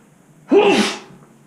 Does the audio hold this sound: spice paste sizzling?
no